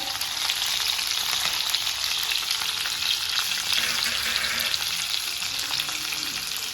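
Potato, pumpkin and drumstick pieces sizzle steadily in hot oil in a pan while being roasted together for a South Indian sambar, a continuous close frying hiss with occasional stirring scrapes.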